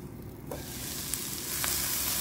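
Carrot and capsicum cook under a lid on a low flame, giving a soft, continuous sizzle with a few faint clicks, swelling slightly toward the end.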